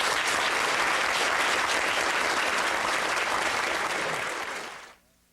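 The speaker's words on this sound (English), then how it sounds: "Let's give them a round of applause." A dense crowd applauds the East Brunswick High School Marching Band, with a full, even wash of clapping that holds strong and then fades out abruptly near the end.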